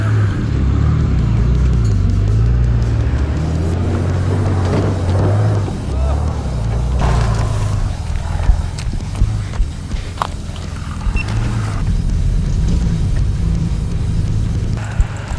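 A Nissan GU Patrol 4x4 grinds along an off-road track with a low, steady engine drone and occasional knocks and clunks from the terrain, fairly close and continuous.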